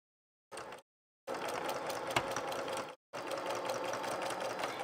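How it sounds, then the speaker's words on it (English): A sewing machine stitches a quilt block for a sailboat-pattern pillow cover, running in three quick bursts: a brief short whir, then two longer steady runs of rapid mechanical humming separated by short pauses. "let's sew this one up. Look at how quick this block is going."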